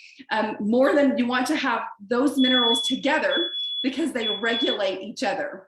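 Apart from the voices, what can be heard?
smoke alarm beeping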